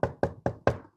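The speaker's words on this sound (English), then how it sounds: "knocking on the wood table" Four sharp knuckle knocks on a wooden table, close and evenly spaced, each a dry hollow thud, with no voices.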